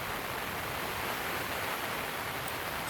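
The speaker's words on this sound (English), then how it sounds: "we've been getting some moderate rain" Moderate rain falls at night on a Coleman Instant 8 Person tent, making a steady, even hiss that never lets up. No voices are heard.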